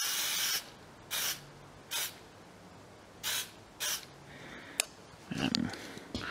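Aerosol can of lacquer top coat sprayed in five or six short hissing bursts, each about half a second, separated by quiet gaps, with a sharp click and a brief rattle near the end.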